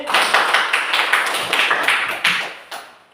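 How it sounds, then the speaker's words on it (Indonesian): A small group claps after a classroom group discussion presentation, roughly a dozen quick, sharp hand claps in a loose rhythm, close and fairly loud, tapering off at the end with no talk. "tepuk tangan sekali lagi"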